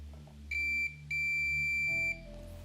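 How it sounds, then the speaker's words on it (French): Two high-pitched electronic beeps from a multimeter continuity test on a vacuum cleaner plug sound close by, a short one followed by a longer steady tone, over a faint low hum. "si on entend un bip, ça veut dire que la connexion est faite"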